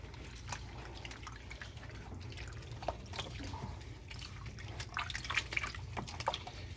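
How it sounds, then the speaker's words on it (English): Water rinses chemicals off a cyanotype print on a plastic grid, giving soft, irregular drips and splashes under a steady low trickle, close and fairly quiet. "And then we're going to rinse, get all the chemicals out"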